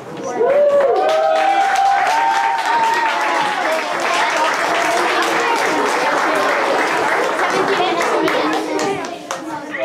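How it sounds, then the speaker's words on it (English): An audience at a TED-Ed student club event gives one last round of applause for the group, loud continuous clapping with scattered cheers and young voices over nearly ten seconds. "I wanted to get our TED Ed group up here for one last round of applause"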